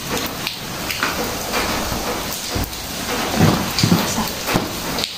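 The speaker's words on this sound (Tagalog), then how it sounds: "In a 5 days, every morning umuulan, ang dilim ng langit dun." Steady heavy rain in Saudi Arabia hisses continuously, with a few dull knocks and rumbles rising near the end.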